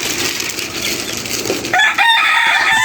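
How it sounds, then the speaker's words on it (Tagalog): Chickens in a small coop cluck loudly and close by, and a rooster's crow rings out clearly in the second half over the constant flock noise. "Nandito tayo sa ating munting manukan"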